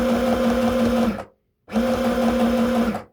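Sewing machine stitching a red cotton skirt at a 30 millimetre stitch length, two steady loud humming runs close by, separated by a brief silent pause.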